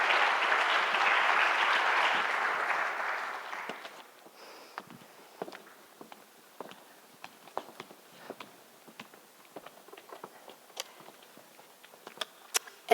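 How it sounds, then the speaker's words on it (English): Applause from a conference audience at an insurance summit, full and dense for about four seconds, then thinning into scattered individual claps that trail off through the rest. "Big round of applause for our guests on the panel."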